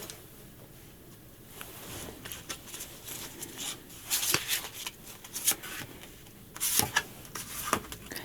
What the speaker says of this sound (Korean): 카드를 선택하신 분들 카드 오픈하도록 할게요.